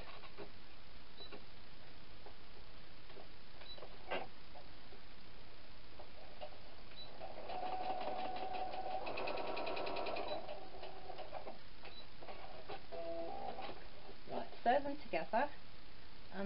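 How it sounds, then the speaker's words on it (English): A home sewing machine stitches quilt block pieces together with a quarter-inch seam, a steady mechanical whirr rising mid-clip for a few seconds amid faint room noise, with a person talking around it. "So you have to sew them together."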